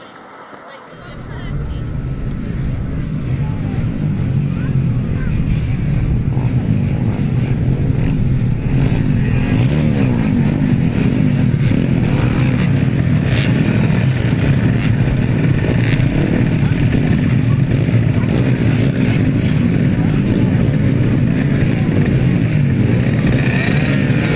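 Cadet grasstrack motorcycles roar away together at the start of a race at the 2018 British Youth Grasstrack Championships, a loud, steady, dense engine blare rising after a brief quiet moment while a commentator talks over it.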